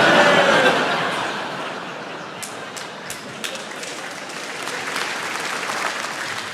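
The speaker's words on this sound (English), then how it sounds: "And a round of applause afterwards." A comedy club audience at the Apollo gives loud, sustained applause that slowly thins out, with scattered chuckles and a few sharp claps standing out near the end.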